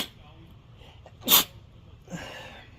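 One sharp, close sneeze bursts out from a person tending a smoky outdoor wood fire, followed by a soft breathy vocal sound against quiet background.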